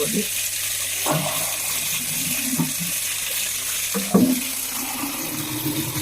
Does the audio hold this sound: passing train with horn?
no